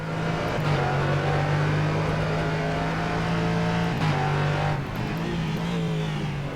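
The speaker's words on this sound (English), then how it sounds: "technically the actual sound of the car itself" A Norma M30 LMP3 race car in rFactor 2 at Interlagos holds a loud, steady engine drone near the limiter, with short dips at gear shifts and a continuous in-car tone, no voices.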